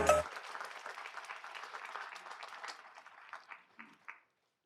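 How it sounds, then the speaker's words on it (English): A short round of applause from a modest audience at a political forum, starting strong and thinning out into a few scattered claps before stopping. "I want you all to give yourselves a round of applause"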